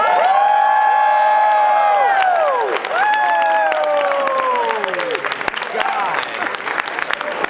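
A convention audience at a USA sumo event cheers and applauds steadily, with loud whoops and shouts, while a voice calls out over the sustained crowd noise.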